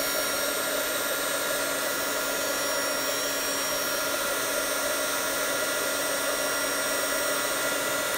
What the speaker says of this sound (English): I have a hot gun, my little Zappo that I got when I was doing a lot of other crafts